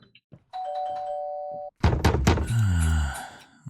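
Heavy, loud banging on a door at 4:18 in the morning, a burst of forceful thumps that comes right after a steady doorbell chime, followed by a brief voiced groan.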